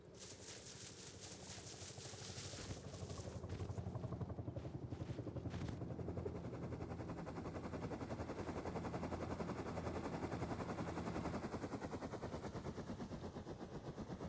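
Helicopter in the game Rust gives a steady rapid rotor chop that persists for several seconds, loud throughout, with brief sharp clattering bursts near the start.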